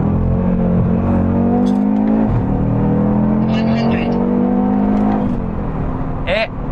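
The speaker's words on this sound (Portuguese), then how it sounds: "É um dos roncos mais bonitos que eu já ouvi, esses 5 cilindros da Audi." Audi 2.5-litre turbocharged five-cylinder engine with a DAZA TTE700 Stage 3 upgrade, revving loudly and continuously up close in a steady, throaty drone that swells and holds before dropping off near the end.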